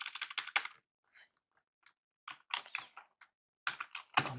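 Keys tapped on a computer keyboard while entering a company name into a logo design program, in short uneven bursts of close, crisp clicks separated by brief pauses.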